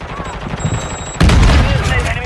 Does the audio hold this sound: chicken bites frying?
no